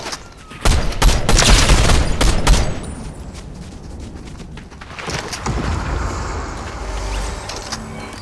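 Fortnite gunfire comes in dense, loud rapid bursts, heaviest at first, then continues as lighter sustained shooting and battle noise.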